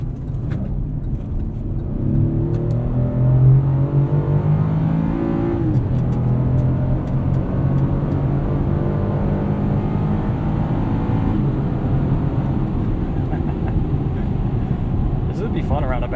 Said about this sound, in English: This V6 does sound pretty industrial, but we're in a truck, so that's okay.